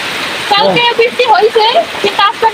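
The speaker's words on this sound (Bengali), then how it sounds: "মানে এত বৃষ্টি পড়তেছে প্রথম" Steady hiss of heavy rain pouring down, with a person talking over it close by.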